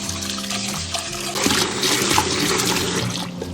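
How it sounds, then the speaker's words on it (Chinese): Cut octopus pieces being rinsed clean under running water, a steady close splashing and rushing that continues throughout without any talking. "切了以后，我们给它清洗干净。"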